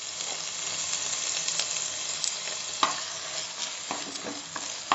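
Boiled onion paste fries in a pan for restaurant-style Mughlai shahi paneer, a steady close sizzle broken by stirring scrapes and spoon knocks against the pan, no talking.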